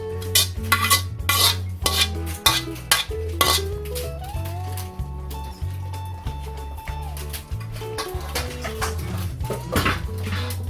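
Metal utensils scrape and clink repeatedly against a pan while cooked adobong kangkong with roasted garlic is scooped out, a brisk close rhythm of knocks and scrapes.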